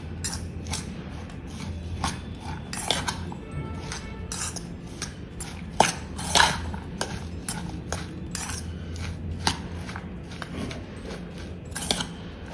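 Omelette mixture of eggs with chilli powder, turmeric and pepper powder being whisked in a bowl, a steady run of quick scraping, clinking strokes with a few louder knocks, close and without talk.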